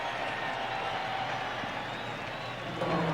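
Loud, steady roar of a Denver Broncos home crowd at Mile High Stadium during a 1995 NFL game against the Jacksonville Jaguars, a dense wash of voices holding level and swelling slightly near the end.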